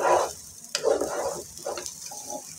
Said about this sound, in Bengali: চালটা ভালো করে ভেজে নিচ্ছি।